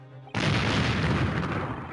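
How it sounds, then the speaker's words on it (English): A loud explosion in The Great Ace Attorney Chronicles, set off when a bullet strikes a pouch holding a glass file; a sudden booming blast hits after a quiet moment and then rumbles on at a steady level. "That was the explosion."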